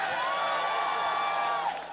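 Tightly tuned synth tones ring through a large arena where a live crowd watches a CS:GO esports match in the IEM San Jose 2015 quarterfinal.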